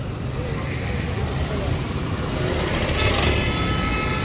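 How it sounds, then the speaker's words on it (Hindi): Dense road traffic hums steadily beside a busy market street at Raja Bazar, a continuous broadband wash of engines and tyres without distinct passes, with a voice talking over it. "रोड क्रॉस के सके ट्रैफिक देखो"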